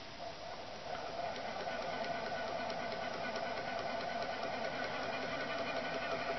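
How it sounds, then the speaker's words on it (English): An advanced peristaltic pump used for low flow groundwater sampling runs steadily at close range, a constant mechanical whir with a faint ticking rhythm that grows slightly louder after the first second. "and now I can dial the pump up."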